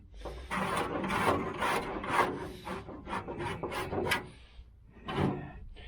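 Body filler on the tail light panel of a 1972 Chevy Nova is sanded by hand in repeated rasping strokes, close and steady, with a brief pause near the end.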